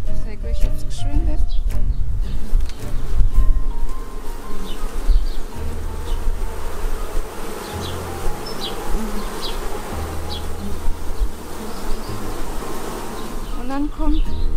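Honey bees swarm around an open beehive during a beekeeping inspection in Germany, a dense constant buzzing close to the ear, with someone talking over it.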